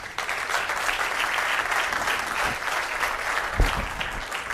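An audience claps in dense, steady applause throughout, close and fairly loud, with a couple of low thumps partway through.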